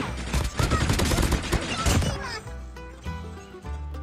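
ATV vehicle firing in a video game: rapid bursts of loud gunfire over a busy game soundscape, then quieter mechanical and musical game sounds with scattered impacts.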